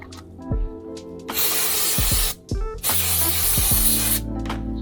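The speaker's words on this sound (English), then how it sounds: "So air duster is pretty cold when you spray it." Loud, close hissing bursts from an air duster can, two long blasts separated by a short pause, with faint clicks at the start.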